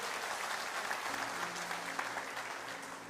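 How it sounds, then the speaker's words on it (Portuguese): A church congregation applauds steadily during a Sunday service, the clapping fairly distant and continuous for a few seconds without a clear break. "Vamos aplaudir a palavra do nosso Deus."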